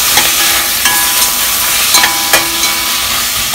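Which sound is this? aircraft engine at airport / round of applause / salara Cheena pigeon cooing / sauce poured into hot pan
sauce poured into hot pan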